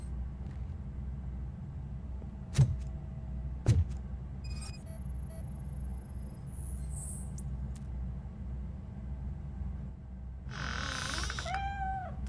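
A cat meows in the Robocop Rogue City video game, a short rising call near the end over a steady low ambient rumble, after two sharp knocks earlier and a faint tone in between.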